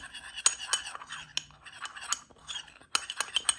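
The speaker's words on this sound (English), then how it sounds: "Get a little spoon and just kind of mix it up" A little spoon stirs pumpkin spice in a small ramekin, producing quick, light metallic clinks and scrapes against the dish in irregular bursts, close and fairly quiet.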